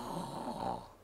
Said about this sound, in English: The jailer is snoring.